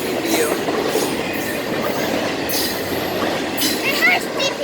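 A BNSF intermodal freight train with distributed power units rolls steadily past at a railroad park in Rochelle, its rumble and clickety-clack wheels filling the scene with occasional wheel squeal, close and continuous throughout.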